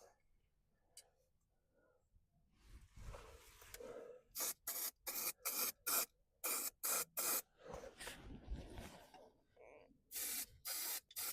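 An aerosol can spray-paints stainless nuts and bolts on a front shock absorber: a quick series of short, sharp hissing bursts in an irregular rhythm, close and fairly quiet, with handling noises between them.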